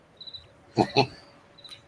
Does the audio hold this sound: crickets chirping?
yes